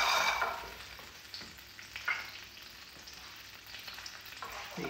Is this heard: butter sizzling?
yes